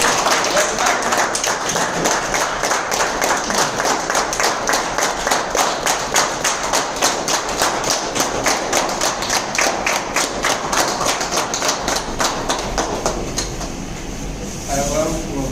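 Loud, sustained applause from an audience at a gathering, dense rhythmic clapping running steadily throughout and thinning slightly near the end.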